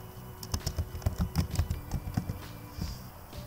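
Rapid, irregular keystrokes on a computer keyboard, typed up close in a quiet room during a Windows disk cleanup search, with no talking.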